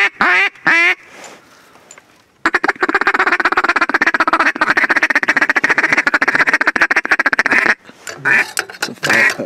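A raspy hand-blown duck call sounds while waterfowl hunting: a few short quacks, then a long, loud, rapid string of rattling quacks close up, and a couple of trailing calls at the end.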